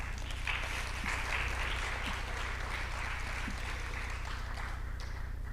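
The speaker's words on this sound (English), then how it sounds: "So can you just clap for us?" Audience applause at the KITFEST 2024 festival, a steady, faint wash of clapping that sounds distant and continues evenly throughout.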